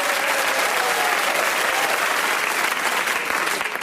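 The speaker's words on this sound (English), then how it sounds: "can we give them a round of applause?" A studio audience at a comedy show breaks into steady, energetic applause, dense clapping holding at an even level throughout.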